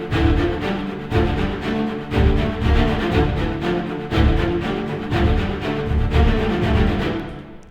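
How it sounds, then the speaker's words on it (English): Violins, cellos and basses from the Nucleus orchestral sample library play together in a modern mix, a full sustained string passage with rhythmic swells and accents, steady and loud throughout. "load the individual instruments, the violins, the cellos, and basses, and it sounds like this."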